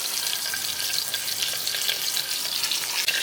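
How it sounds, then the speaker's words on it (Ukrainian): Fatty pork ribs frying fat side down in hot oil, a dense continuous sizzle and crackle, close and steady with no talking. "Реберце кладу жирною стороною донизу, щоб жир витопився."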